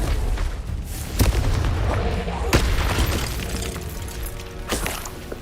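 Confringo blasting-spell explosions in a video game, several heavy booms at intervals over a rumbling, crackling background, with a voice speaking in between.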